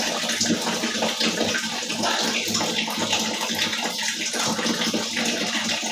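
Water splashing and pouring continuously while a man bathes, a steady close wash of running and sloshing water with no talk over it.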